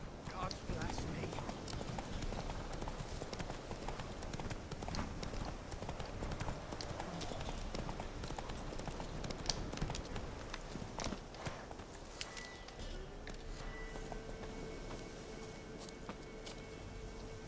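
Roach the horse in The Witcher 3, hooves clip-clopping in a quick steady galloping rhythm, fairly close, under faint game sounds and a brief tonal cue near the end.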